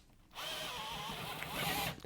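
A woodworking drill bit bores into wood, likely in a pillar drill, giving a steady whirring, grinding whine that starts abruptly, holds for under two seconds with rising intensity, then cuts off.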